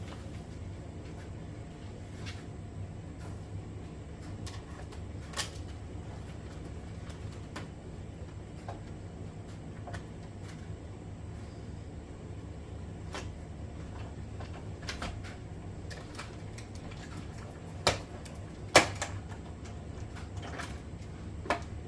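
A die cutting machine runs steadily while cutting paper for a craft card, a low continuous mechanical rumble with a few brief clicks and knocks near the end.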